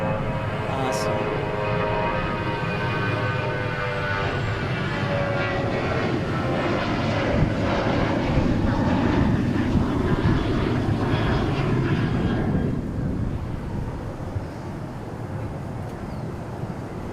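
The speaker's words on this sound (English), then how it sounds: "I love the rev up noise." A jet airliner's engines rev up at Dallas Fort Worth International Airport, a loud, sustained roar with a rising whine, heard from outdoors with some wind buffeting the microphone.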